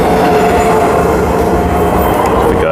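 A suburban passenger train pulls into Daglish station, a loud, continuous rumble of wheels on rails with steady mechanical drone and faint squeal, close by and without voices.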